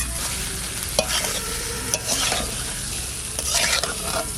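Fish curry with magur and koi fish sautéed in a pan, a steady close sizzle broken by a few scraping stirs of a spatula, with no voices.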